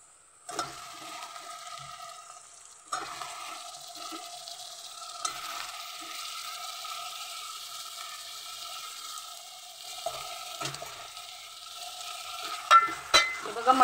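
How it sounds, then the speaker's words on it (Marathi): Goat mutton, coated with turmeric, salt and ginger-garlic paste, sizzles steadily in a pan while being stirred, with a continuous frying hiss broken by occasional scraping clatters of the spoon; no talking. "हे बघा, मटण असं व्यवस्थित परतून घ्यायचं।"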